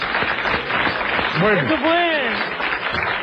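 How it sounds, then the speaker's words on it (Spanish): A studio audience on a talk show claps for the guest Tongo, steady applause running throughout while someone speaks briefly over it. "Un aplauso para Tongo."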